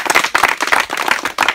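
Audience applause at a community gathering, a close, dense patter of many hands clapping in quick uneven bursts, with a short dip near the end.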